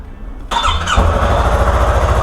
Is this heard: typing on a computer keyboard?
no